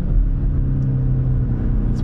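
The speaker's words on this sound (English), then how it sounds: "knowing that it is a 4-cylinder turbocharged engine, so not a 6-cylinder" A BMW X1 M35 with a four-cylinder turbocharged engine revs with a loud, steady rumble heard from inside the car, alone and without talk.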